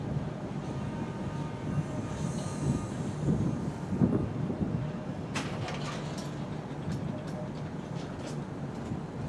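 Mumbai–Coimbatore express train 11013 pulling out of a station near the Krishna river, a steady low rumble of wheels and carriage noise with wind buffeting the microphone and a few faint metallic clanks.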